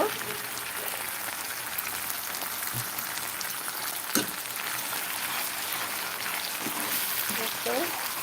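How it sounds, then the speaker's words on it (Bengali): Ginger and spices fry in hot oil for a chicken curry, a steady dense sizzle and crackle throughout with a few sharp pops, heard close up. "এখন ভালো করে ভেজে নিচ্ছি তেলের মধ্যে"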